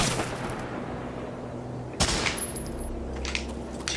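Gunfire in the Medal of Honor war video game: a dense rattle of distant shots goes on under a low rumble, then a louder sharp report cuts in, followed by scattered pops and a ringing electronic tone.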